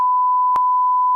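A single flat, loud censor beep holds as a pure steady tone for just over a second, alone.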